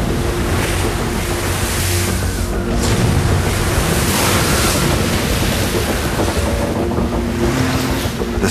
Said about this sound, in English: The relentless wind drives the seawater below.